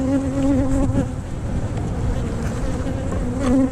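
A honeybee colony buzzes steadily in an open hive, a close, dense, continuous hum with no talk over it.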